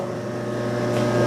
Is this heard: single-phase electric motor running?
yes